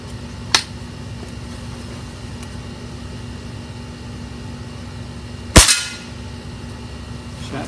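A Diana RWS 48 .22 air rifle fires over a chronograph: one sharp, loud crack with a brief tail, preceded seconds earlier by a faint small click, all against a steady background hum.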